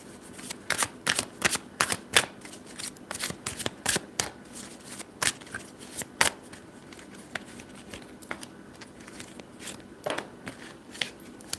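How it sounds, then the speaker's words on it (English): A deck of tarot cards is shuffled by hand, giving a long run of crisp, papery riffles and flicks in irregular bursts, close and fairly quiet with no talking. "I'm going to pull cards for the group Keys of Life"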